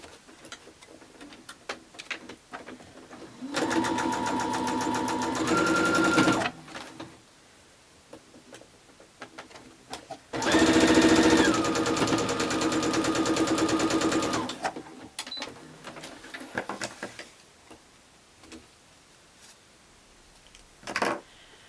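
A sewing machine stitches quilt pieces in two bursts of rapid, even whirring, each lasting several seconds, separated by quiet handling and faint clicks, close and clear.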